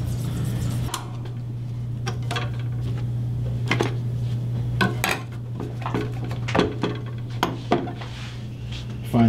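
A sharpening machine works on shears with a steady low motor hum throughout, while sharp metallic clinks and scrapes come through at irregular moments, close and fairly clear.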